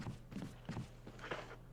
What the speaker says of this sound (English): Thought I heard other footsteps.